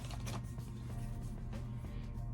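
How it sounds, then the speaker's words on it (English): A salon hood hair dryer runs with a steady low motor hum and a constant airy rush, with faint mechanical clicks and creaks throughout and no talking. "So I'm going to sit under the dryer here at the salon"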